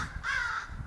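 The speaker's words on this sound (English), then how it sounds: "These crows are going crazy." A single harsh crow caw sounds out at a moderate distance, short and rasping, with faint background noise around it.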